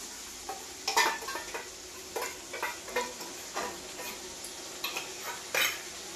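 Chicken with ginger-garlic and cumin paste fries in a pan and is stirred in a steady rhythm of scraping, clinking strokes over a soft sizzle, heard close and without speech.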